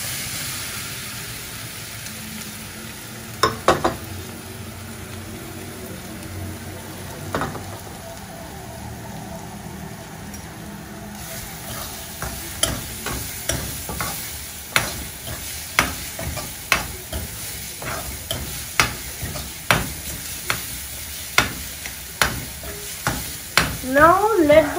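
Garlic and chilies fry in a pan, a soft sizzle under a run of sharp, regularly spaced spatula taps and scrapes that grow busier toward the end, close and fairly loud, with no talk.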